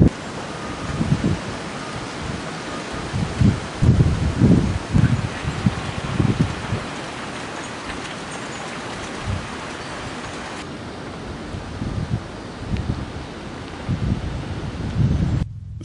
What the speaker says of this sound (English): Some of the rain bands were more intense than others, and brought 40 mph wind gusts to Indiana.